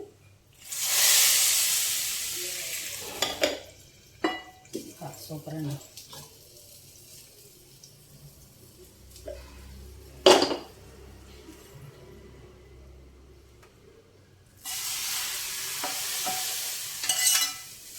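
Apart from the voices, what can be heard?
tempering spices sizzling in hot oil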